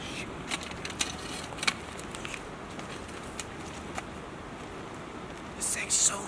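Climbing tree stand being moved up a tree, with scraping, rustling and sharp metallic clicks and knocks scattered irregularly over a continuous noisy background, fairly close.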